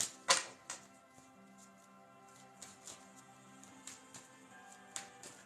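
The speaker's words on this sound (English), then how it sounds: "while we're shuffling these cards for Lex today" Tarot cards are shuffled by hand, giving scattered soft clicks and riffles with a sharper burst near the start. Quiet background music plays underneath.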